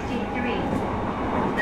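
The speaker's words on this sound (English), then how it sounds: "This is an Omen Line train for 奥多摩。" An E233 series train on the Ome Line toward Okutama runs with a steady low rumble heard from inside the car, while a voice on the onboard announcement speaks over it.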